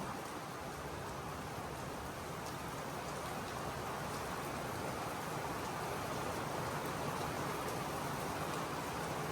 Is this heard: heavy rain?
yes